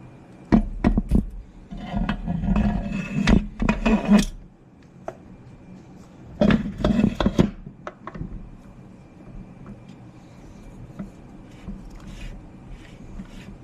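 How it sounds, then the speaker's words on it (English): A metal output assembly for a TH400 transmission being built for 1000 hp drops into place. Two bursts of close clunking and scraping metal are separated by a quiet pause, followed by a few lighter knocks and no talking. "Now that we have our band in, we can drop our output assembly into place."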